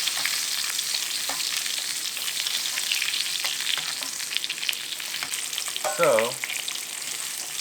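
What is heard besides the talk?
steak sizzling in a pan while being basted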